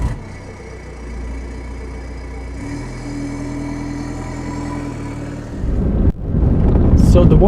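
A 2008 Ford Mondeo MK4 hums at low revs from inside the cabin, a steady engine drone that shifts in pitch partway through, then grows louder and rougher with wind noise as the car pulls away.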